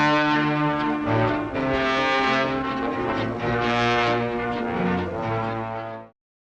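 A sudden orchestral scare sting suited to a tiger lurking behind a wall: a loud, dense, sustained brassy chord held for about six seconds with shifting inner notes, then cut off abruptly.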